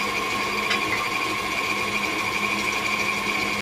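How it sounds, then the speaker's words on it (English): A KitchenAid stand mixer beats batter for streusel caramel apple bread, giving a steady, loud motor whir with a constant mechanical hum that holds unbroken for the whole stretch before cutting off at the end. "I'm not going to make you listen to all the noise from my KitchenAid mixer."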